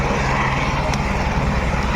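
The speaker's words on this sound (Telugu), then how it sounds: "హెలికాప్టర్ చూడండి పొగలు వెళ్తున్నాయి" A helicopter that has just landed at Kedarnath roars with a loud, steady engine and rotor drone close by, with no break across the clip.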